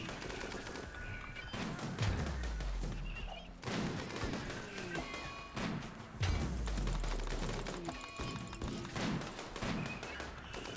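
Mechs firing guns in the video game RimWorld: continuous rapid volleys of gunfire with repeated deep thumping impacts, dense and sustained throughout.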